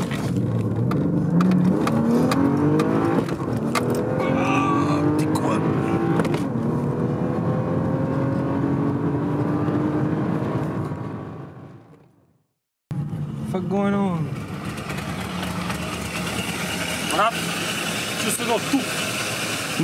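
A car engine roars and revs loudly, its pitch climbing and swooping, cuts out briefly, then resumes with people talking over it.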